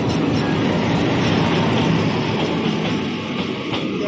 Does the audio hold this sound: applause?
no